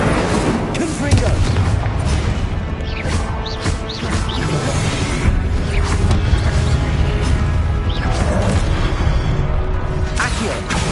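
Spell explosions from Hogwarts Legacy on PS5, booming blasts and crashes rolling one after another in a dense, loud, continuous barrage of game combat effects.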